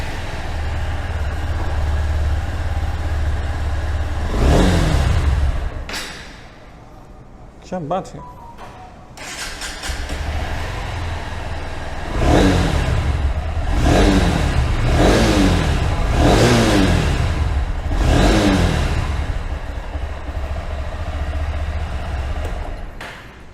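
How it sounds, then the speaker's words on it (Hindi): A 2025 Honda Hornet 2.0 motorcycle in neutral starts and is revved several times in rising and falling bursts, close and loud, with a steady idle between revs and someone talking briefly over it. "जैसे इसका साउंड आपको सुनना है तो मैं स्टार्ट कर देता हूँ"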